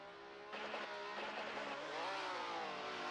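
A Mazda FD RX-7 and a Ferrari 599 launch off the line in a drift competition at Road Atlanta. Engines surge into rising, revving pitches after a brief quiet moment, heard from a distance and somewhat faint.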